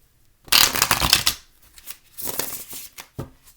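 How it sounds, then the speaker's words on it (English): Tarot cards being shuffled in two bursts of papery riffling and flicking, the second shorter, with a soft tap between them. Close and fairly loud, no talking. "one more, and then we'll start shuffling"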